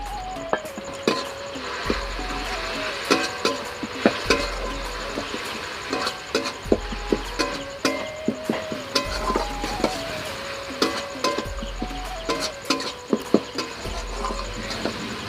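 Ground spices of clove, cardamom, cinnamon and coriander are stirred and fried in a pan for a prawn and pointed gourd dish, with a low steady sizzle, repeated scraping and clinking of a spoon against the pan, and low thuds as it is worked.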